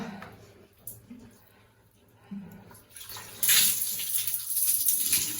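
Shower water pours down during a bath at home, a soft splashing at first that swells into a louder, steady rushing spray for the last two seconds, with someone talking quietly beneath it.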